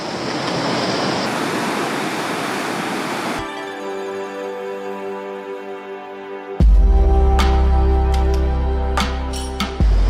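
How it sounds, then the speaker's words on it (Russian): Small surf of half a metre to a metre breaks fast at a secret surf spot in the Canary Islands, giving a steady rushing wash for a few seconds before tonal music-like sounds take over. "Очень маленькие волны, полметра, метр."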